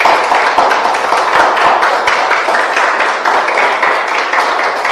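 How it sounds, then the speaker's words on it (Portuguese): A church congregation at a Sunday morning service applauds loudly and continuously, a thick, close roar of many hands that keeps a steady level from start to finish without voices. "então vamos aplaudir a Jesus"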